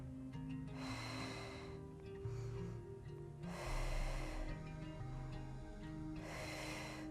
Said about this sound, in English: Inhale.